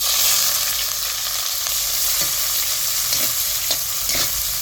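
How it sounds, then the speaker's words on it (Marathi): Mustard seeds, cumin, curry leaves and onion tempering in about a ladle and a half of hot oil, a steady loud sizzle and crackle up close with a few stirring scrapes, no voices. "दीड पळी तेल टाकले फुडणीसाठी एक चमचा मोहरी टाकायची एक चमचा जिरं थोडासा कढीपत्ता टाक"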